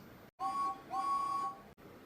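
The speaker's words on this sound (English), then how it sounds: "James whistled loudly to the other engines" A steam engine whistle from an animated train show gives two loud, clear, steady toots, the second longer than the first, with a short gap between them.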